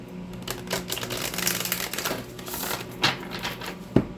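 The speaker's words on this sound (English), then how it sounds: "Let me get you some good shuffles in" Tarot cards from an Angel Tarot deck being shuffled, giving a steady run of close, papery riffling and clicking over about four seconds, with a few sharper snaps near the end and no talking.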